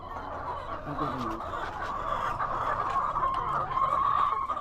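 Chickens cluck and murmur continuously nearby, with faint voices in the background.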